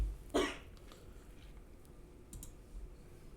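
One sharp, close cough from a person, followed by faint clicks and small rustles, with no talking.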